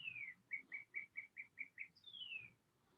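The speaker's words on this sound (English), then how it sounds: "Oh, I can hear the birds." Birds chirp outdoors in a rapid run of about seven short, evenly spaced tweets, then a longer falling whistle, moderately faint against a quiet background.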